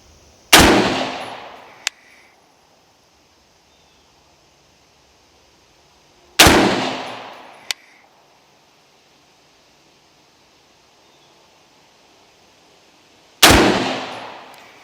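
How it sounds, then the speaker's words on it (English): Three rifle shots fired downrange with a SIG 77-grain match load, spaced several seconds apart. Each is a loud crack followed by a decaying tail and a faint distant echo or impact ping. "There's 3 shots down range."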